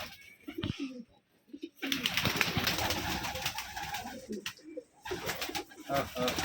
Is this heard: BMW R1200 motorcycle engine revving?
no